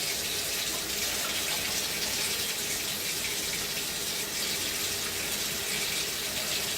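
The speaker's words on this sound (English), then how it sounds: "I've got to run some warm water, which I'm gonna run some right now." Warm water runs steadily from a kitchen tap, a continuous close hiss of flowing water with no break and no voices.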